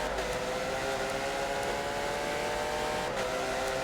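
A pack of Porsche GT3 race cars runs nose to tail in a racing video game, engines droning in a continuous steady blend at constant loudness, with no voices heard.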